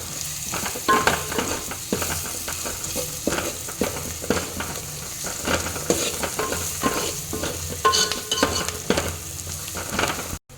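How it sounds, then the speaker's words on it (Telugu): Sliced onions tossed with turmeric in a frying pan for an old-style chicken curry sizzle loudly and close up, with repeated scraping stir strokes in an uneven rhythm throughout and no talking. "ఈ 2 అల్మెల్లిగడ్డను పసుపు ఇట్లా కలుపుకోవాలి"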